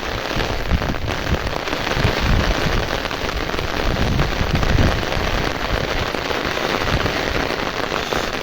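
Heavy downpour drumming steadily on surfaces outdoors during a monsoon flood, a dense continuous hiss of rain at constant loudness with no talk.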